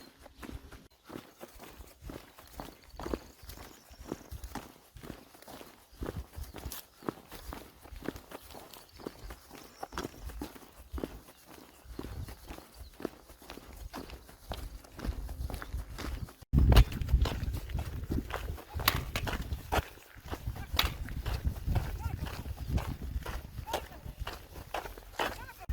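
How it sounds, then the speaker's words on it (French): Dutch-breed cows walk about, their hooves making irregular thuds and clops throughout, with scattered voices and a burst of louder rumbling noise partway through. "Alors voici des vaches de race hollandaise."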